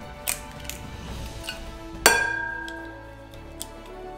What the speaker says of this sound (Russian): Разбиваем их в миску побольше.